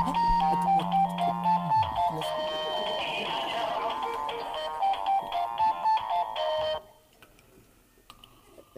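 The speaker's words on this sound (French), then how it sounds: "Un texto." A phone's text message notification tone, a melodic electronic jingle with steady beeping notes that plays for several seconds, fairly loud and close, then cuts off abruptly, leaving faint room noise and small clicks.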